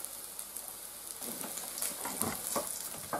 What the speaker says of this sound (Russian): скоро будем уже вторую партию жарить.